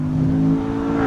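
Steady engine drone from a C7 Corvette Z51 on a backcountry drive, with a constant low growl and layered harmonics inside the cabin and no talking.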